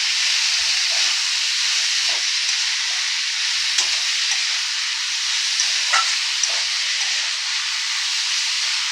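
Banana flower (mocha) mixture with salt and spices sautéing in a pan, a loud steady hissing sizzle with occasional light stirring clicks, close up and without speech.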